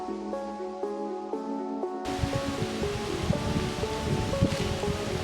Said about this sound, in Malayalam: അയ്യോ നല്ല കാറ്റുണ്ട്.